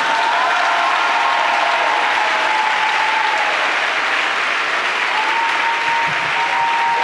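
Church congregation clapping and cheering, a dense, steady roar of many hands applauding together for several seconds, loud and even throughout with no one speaking.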